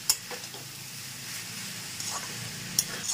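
Mixed rice frying in a wok over low flame, stirred with a spatula: a soft continuous sizzle with a few light scrapes and taps against the pan, close and fairly quiet, with no voices.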